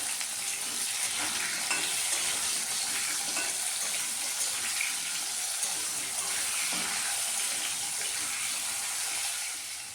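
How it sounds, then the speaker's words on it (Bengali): Potato pieces fry in hot oil with cumin seeds and a pinch of salt, stirred in the pan, giving a steady, close, continuous sizzle with scraping stirs throughout and no talk. "আলুটা ভেজে নেব।"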